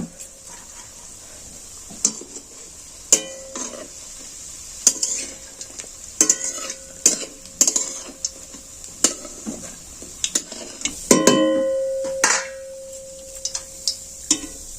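Semolina sweets fry in hot oil, a soft continuous sizzle broken by frequent sharp clinks and scrapes of a metal spoon against the pan, close and without speech.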